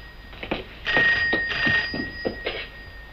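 Telephone ringing indoors in a rooftop home, a series of repeated bell-like bursts with short gaps, fairly close and clear with no talk over it.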